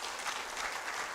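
A brief burst of audience clapping for a university vice chancellor at a conference opening ceremony, full and continuous.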